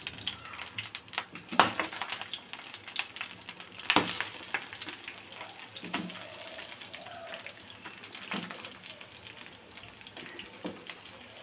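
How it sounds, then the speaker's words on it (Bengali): Eggplant slices fry in hot oil in a home kitchen pan, giving a continuous soft sizzling hiss broken by scattered sharp pops and crackles, with no talking. "আর এদিকে বেগুনের জন্য তেল দিয়ে দিয়েছি। তো একটা একটা করে বেগুন দিয়ে দেবো।"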